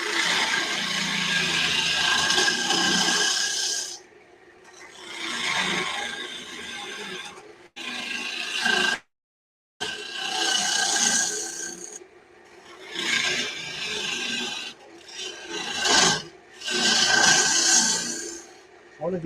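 A carbide tool cuts wood spinning on a lathe that tends to bog down, a loud rasping, scraping whir in several bursts with brief pauses between and a short silent gap, with someone talking over parts.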